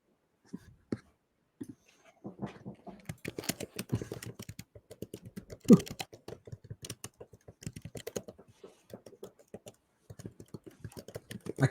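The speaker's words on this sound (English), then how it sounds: "I can hear you typing." Computer keyboard typing runs fast and uneven throughout, a quick clatter of keystrokes close by with a sharper thump near the middle, and no talking over it.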